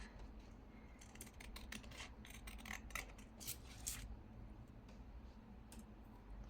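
Scissors trim a scrap of paper for a junk journal collage, a quiet run of soft, close snips and light rustling with no talking.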